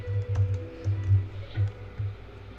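Quick bursts of clicky typing on a computer keyboard, close and fairly loud, coming in short uneven clusters.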